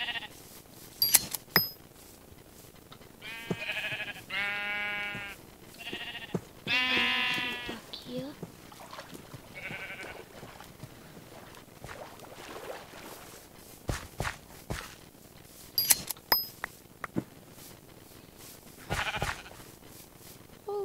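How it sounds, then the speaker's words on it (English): Sheep in the Minecraft game on a Hypixel server bleat several times in short, wavering calls, mixed with footstep-like clicks and a person talking over the game. "Sheep here."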